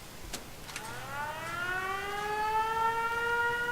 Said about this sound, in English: once the siren goes off